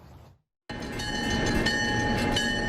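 Following a brief silent gap, the Oregon Coast Scenic Railroad train rumbles along the track, a steady, fairly loud roll of wheels and carriages with faint metallic clatter and squeal.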